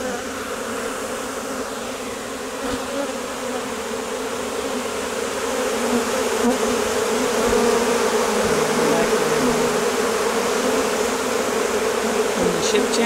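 A large swarm of honey bees buzzes loudly as they move into a hive near a ship channel, a dense, continuous hum that grows louder partway through and keeps going to the end.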